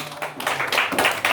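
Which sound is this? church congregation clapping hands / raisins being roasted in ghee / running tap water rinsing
church congregation clapping hands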